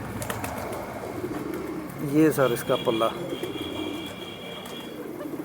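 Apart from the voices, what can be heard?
pigeons cooing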